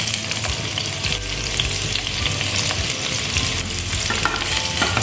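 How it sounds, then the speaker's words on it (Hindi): Pointed gourd (parwal) pieces fry in hot oil with a loud, dense, continuous sizzle, heard close and steady throughout. "हम एक साथ ही सारा पटल डाल देंगे। हम साइड साइड से जगह बना के डाल देंगे।"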